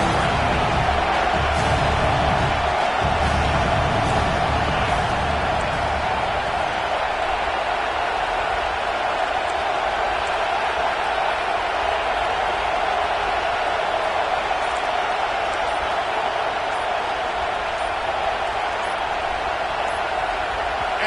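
Steady roar of a stadium crowd in a college football video game, a dense continuous wash of cheering and noise that holds loud and unbroken throughout, with some low rumble early on.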